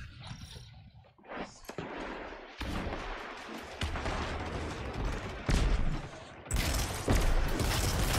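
Enemy gunfire in Destiny 2 (Witch Queen) rattles in dense bursts of rapid shots with booming impacts, loud and near, continuous across the stretch with no talking.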